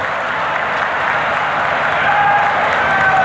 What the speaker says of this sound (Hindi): एक बार जोर से पुष्कर सिंह के लिए ताली बजाकर उनका स्वागत करिए।